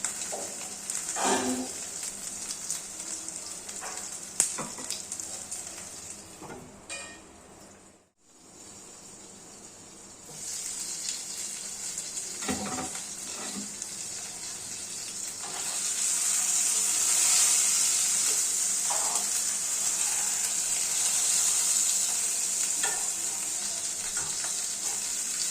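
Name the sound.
rohu fish paturi in bottle gourd leaves frying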